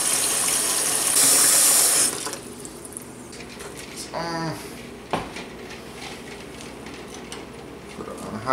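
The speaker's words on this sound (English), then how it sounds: "Then we put more water in, so that way the water is at least twice as deep as the eggs." Water running from a tap into a pot of eggs, a loud gushing pour at first that then quietens to softer trickling and splashing with occasional clinks of the pot.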